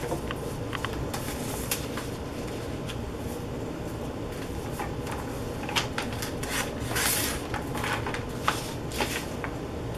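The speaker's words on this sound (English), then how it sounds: "I'm just trimming off the folded edge so that it's open." Paper envelope edges being trimmed, soft repeated snips and rustling scrapes of paper running steadily under a constant low room hum.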